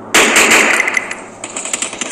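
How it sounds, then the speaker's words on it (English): Rapid automatic gunfire rattles loudly in the shooter video game Free Fire, a dense burst of close shots that thins into scattered, quicker pops with no talk. "Is that person shooting?"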